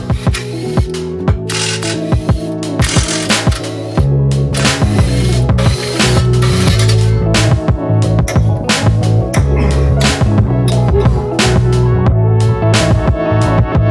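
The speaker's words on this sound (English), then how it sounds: "I'm going to remove this plate first so we can access these bolts right here" Ratchet wrench working on the plate bolts under a Subaru WRX wagon, loud rapid metallic clicking in repeated bursts throughout, close and dense, without talk.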